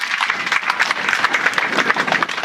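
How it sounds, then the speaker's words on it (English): An audience claps at a county Democratic Party right-to-vote rally, crisp individual claps forming lively, uneven applause that carries on throughout without speech. "Give yourselves a round of applause,"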